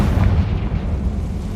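A Confringo fire spell explodes in the video game Hogwarts Legacy, a loud low boom with a rumbling tail that fades over about a second and a half.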